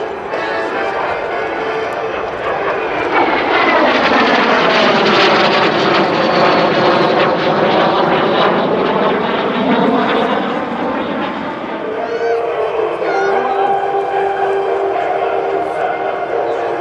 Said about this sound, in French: After a hard turn left, the number 4 will come back for a hesitation roll.